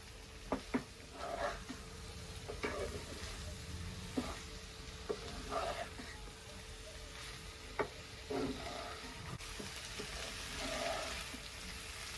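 Pasta being mixed in a pan for a homemade Maggi-masala pasta dish gives a quiet, steady sizzle, broken by a dozen or so soft, scraping stir strokes at irregular intervals.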